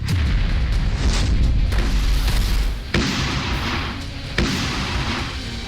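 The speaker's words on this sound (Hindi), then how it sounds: "इजराइल की भीषण बमबारी और रॉकेट हमलों से फिलिस्तीन का आसमान धुआं धुआं है" Heavy booms and rumbling blasts from Israeli bombardment and rocket attacks on Palestine roll on continuously, with loud low-end thuds and a sharper burst partway through.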